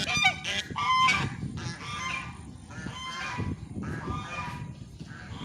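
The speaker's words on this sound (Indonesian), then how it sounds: "Oh, ada angsa ya." A goose honks loudly and repeatedly at close range on the grounds of an agricultural engineering faculty campus, with harsh calls coming in several bursts and no talking.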